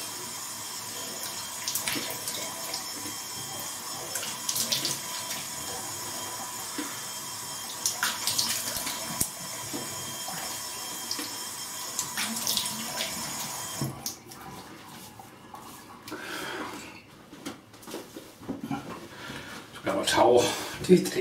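Cold tap running into a bathroom sink during a shave, a steady splashing stream for over ten seconds, then softer trickles and rinsing splashes as the flow stops.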